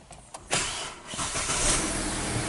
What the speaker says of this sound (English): we definitely heard the battery crank like real low